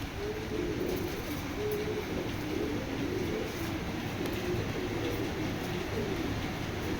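Racing pigeons coo in low, repeated rolling phrases, fairly close, over a constant broadband hiss with no talking.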